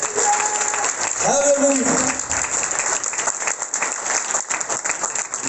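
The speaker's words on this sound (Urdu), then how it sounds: "زوردار تالیاں ذرا یسوع کے لیے." A church congregation claps loudly during an Urdu Easter sermon, a dense sustained round of applause with the preacher's voice calling out over it.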